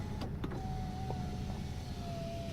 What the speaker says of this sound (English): Power windows work.